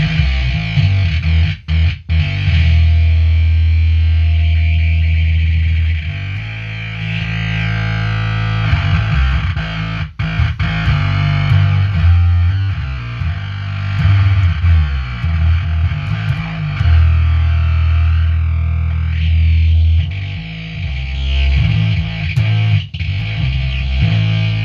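A bass runs through an animated fuzz pedal, giving a thick, buzzing square-wave distortion that holds loud and steady almost the whole time, with a few brief dropouts and slowly shifting tone, no voices.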